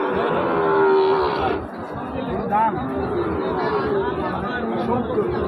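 A cow lows loudly and close by in a cattle market, a long drawn-out moo, while people chatter around it.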